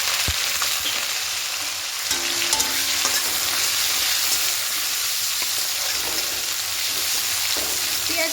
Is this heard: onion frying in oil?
yes